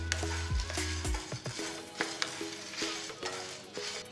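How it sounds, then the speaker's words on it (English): Red chilies and tamarind dry roasting in a pan over a medium-low flame, with a faint sizzle and repeated scraping and clinking as a utensil stirs them in an irregular rhythm. "Dry roast the ingredients on a medium-low flame for about 5 minutes."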